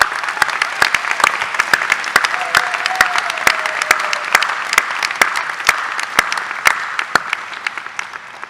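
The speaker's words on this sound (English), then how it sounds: "So, round of applause for the ADE folks." Applause at the 2022 University of North Carolina Adams School of Dentistry commencement ceremony, a large crowd clapping steadily with sharp individual claps standing out, sustained and fairly close throughout.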